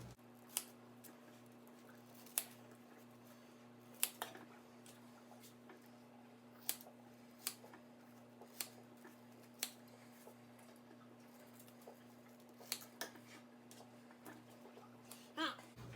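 Scissors cutting soft foam for a filter cartridge: a series of sharp, close snips at an uneven pace over a steady low electrical hum, with no talk.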